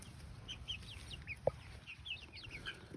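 Free-range hens on a small ranch cluck softly in short scattered calls, faint and somewhat distant, with thin chirps of other birds and a quiet outdoor background.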